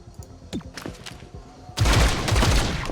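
Gunfire in the video game XCOM: Chimera Squad: after a few soft thumps and clicks, a loud, dense burst of shots erupts and keeps rattling to the end.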